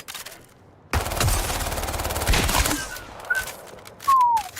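Rapid automatic gunfire from a held weapon in the shooter game Highguard, a loud sustained burst of roughly two seconds, followed by scattered whooshing and whistling game effects.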